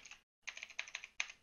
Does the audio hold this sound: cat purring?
no